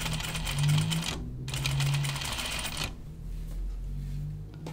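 A sewing machine topstitching a Tea House dress, running in steady loud whirring stretches with two brief pauses between runs, close by.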